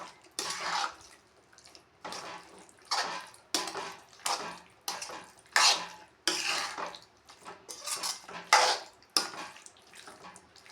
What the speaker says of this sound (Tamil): சுகர் ஒரு 3 கரண்டி போட்டு இதை கலந்து விட்டிங்கன்னா